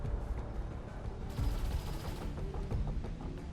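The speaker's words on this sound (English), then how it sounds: "The enemy turrets are hammering the ship." Enemy turret gunfire from an XCOM 2 alien attack hammers a grounded ship, heard as a dense rumbling barrage of shots and impacts, with a louder burst around the middle, continuous and close.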